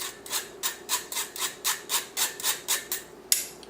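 Back of a spoon pushing cocoa powder through a sieve, a steady run of about a dozen soft rhythmic scraping strokes, close and fairly quiet, with no talking.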